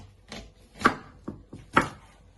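A knife chops down through an onion on a cutting board, giving about five distinct close thuds in an uneven rhythm, two of them sharper and louder, with no talking.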